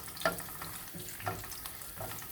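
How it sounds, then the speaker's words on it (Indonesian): Garlic stir-frying in hot oil at home, cooked for a Thai-style long bean dish: a steady close sizzle with soft scraping stirs landing roughly every second. "Pertama panaskan minyaknya dan masukkan bawang putih, tumis sampai harum ya"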